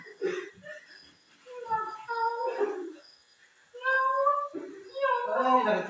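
A voice imitates a pet cat meowing in a classroom skit about caring for animals, giving several drawn-out, wavering meow calls in two bursts separated by a short pause, close and fairly clear.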